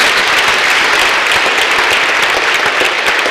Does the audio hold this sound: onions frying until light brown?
no